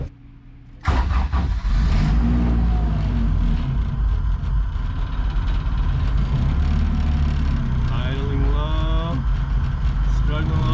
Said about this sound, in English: Now it's time to start the car, and let's hope these readings come into play.